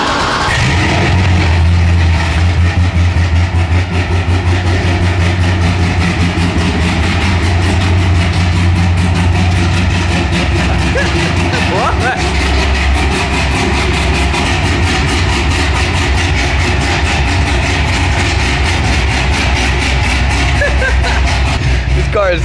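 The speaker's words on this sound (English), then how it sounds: "This car is so loud." Loud cammed Corvette Z06 engine idling continuously with a deep, lumpy low rumble that stays steady throughout, close to the listener, while people talk over it.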